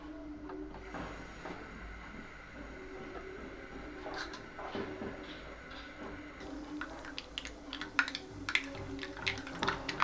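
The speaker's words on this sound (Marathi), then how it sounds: "मोहरी छान तडतडू द्यायची आहे" Mustard seeds crackle in hot oil for a tempering, a steady sizzle that breaks into dense, sharp popping toward the end.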